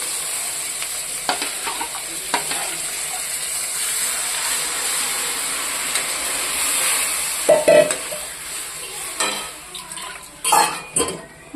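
Spiced tamarind water for a neem-flower kuzhambu sizzles and simmers steadily in a pan, coming up to a boil, with a few clinks of a spoon against the pan near the end.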